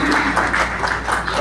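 Audience applause breaks out for the Maharaj, a dense, steady patter of many hands clapping together for just over a second, fairly loud with a faint murmur of voices mixed in.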